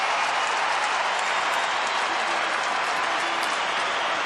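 Sydney Swans fans in red and white behind the goal cheer and applaud at an AFL football match against North Melbourne in 2010, a dense, steady roar of crowd noise and clapping with no break.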